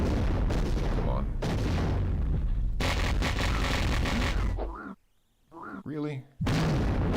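Video game explosions and booming gunfire fill a dense, loud stretch, cut by a short quiet gap with a spoken exclamation before the blasts resume.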